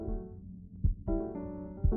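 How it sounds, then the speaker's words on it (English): Heartbeat from the video game Before Your Eyes, low thumping pulses repeating at an irregular pace over a sustained musical tone, moderately loud with no talk. "His heartbeat is getting Tej."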